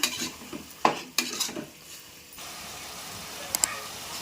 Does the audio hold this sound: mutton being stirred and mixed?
yes